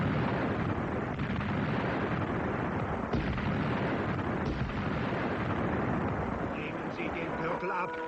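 World War II film battle scene with artillery fire, a dense, loud rumble of blasts and booming explosions carrying on without pause.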